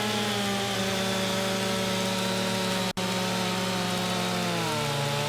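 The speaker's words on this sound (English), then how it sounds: "I tell you what, glad I got this chainsaw. This is a nice chainsaw." A chainsaw cutting an American elm tree in Farming Simulator 25 drones loud and steady, with a brief dropout near the middle and a slight pitch drop near the end, no talking.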